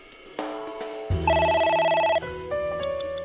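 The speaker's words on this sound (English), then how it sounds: "It's ringing again." Telephone ringing in the game Somnium Chloride, an electronic tonal ring rising in loudness with sustained chiming notes, heard alone.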